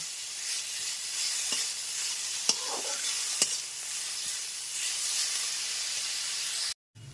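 Ginger-garlic paste fries with onions in a pan while being stirred. A steady hiss runs throughout, with a few sharp clicks of the utensil and a brief dropout just before the end. No voices.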